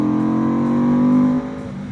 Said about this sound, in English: This bike is so loud, gosh.